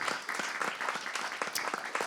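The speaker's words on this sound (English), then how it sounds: "let's start by just giving them a round of applause" A modest audience at a panel on Black maternal mortality claps briefly, a short patter of scattered hand claps at moderate distance.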